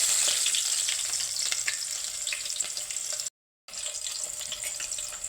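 Onions fry in hot oil for tomato onion upma, giving a steady, bright crackling sizzle with a short break of silence partway through.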